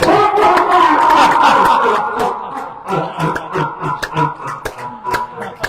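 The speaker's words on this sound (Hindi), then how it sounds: "ताली बजाए सब।" A yoga class group claps hands together, a scattered burst of crowd applause followed by uneven individual claps, mixed with voices and laughter in the room.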